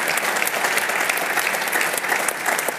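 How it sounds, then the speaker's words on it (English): Sustained, dense applause from a large conference audience, a loud, steady wash of many hands clapping at once with no talking over it. "So big round of applause to a true DLD moment."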